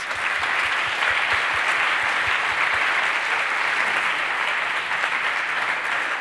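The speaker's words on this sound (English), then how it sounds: "I'd love to give her a round of applause" Sustained applause from an audience fills the room, steady and dense clapping for about six seconds with no speech.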